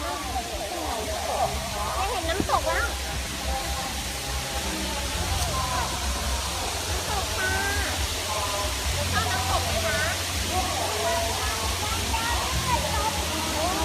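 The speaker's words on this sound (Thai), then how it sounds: "ได้เห็นน้ำตกแล้ว" Steady broadband rush of a waterfall fills the scene, a constant hiss-like roar with people talking over it.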